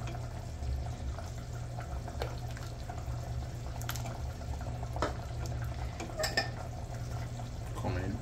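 Food is stirred in a pot with soft scraping and occasional utensil clinks over a low simmering hum, quiet and close in a home kitchen.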